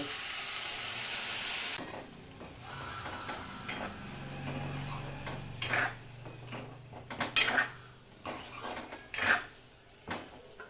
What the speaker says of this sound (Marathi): परतून घेतलं वांग.